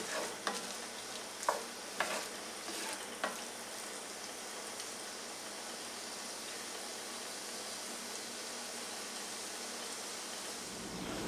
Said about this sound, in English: Get that stuff sauteing kind of fast